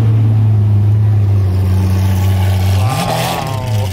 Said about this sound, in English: the SVJ is going with the FI exhaust